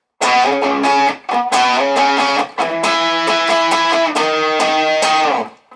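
An electric guitar plays the first half of a riff, loud, clean-sustained notes picked in short repeated phrases with brief gaps between them, alone with no talk.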